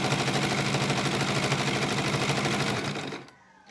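A sewing machine runs fast and loud, stitching a zigzag on a fabric mask with a steady rapid clatter, then stops abruptly near the end.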